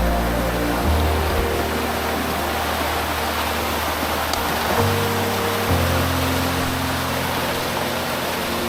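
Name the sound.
waterfalls along a creek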